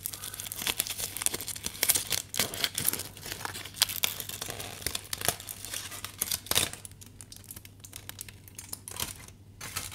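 A wrapped food package with sauce inside is opened while travelling, with close, crisp crinkling and tearing of paper or plastic in irregular bursts, loud and near, with no talking.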